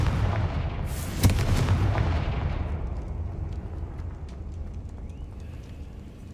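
A Confringo blasting spell goes off in a Harry Potter video game, with a sharp explosive crack followed by a rumbling blast that slowly fades, heard alone without talk.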